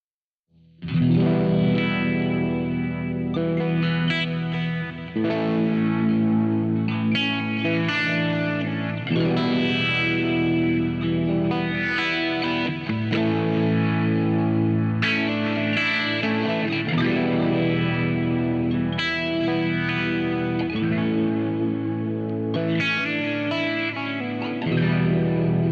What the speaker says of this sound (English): The fast boost drive, the phaser, delay, and plexi delay.